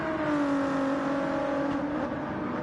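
Race car engines in Gran Turismo 7 during an online race, a steady loud engine drone with a slowly falling pitch, as if easing off before a corner, continuous and close with no talking.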